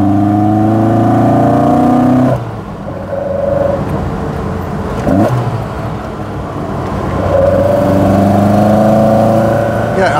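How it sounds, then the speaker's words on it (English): A Fiat 131 Mirafiori Sport on twin Dell'Orto carburettors with minimal filtration roars loudly, its deep intake rumble rising and falling as the revs change, dropping back briefly before building again. "Minimal filtration, so there's nothing to stop that lovely induction roar."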